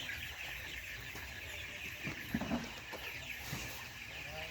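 Broiler chickens on a poultry farm in hot weather, a few faint clucks over a steady hum of background noise.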